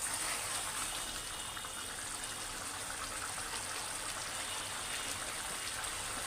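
Curd fish gravy boiling in a pan, a steady, even rush of bubbling and hiss that holds at the same level throughout without pause or voices.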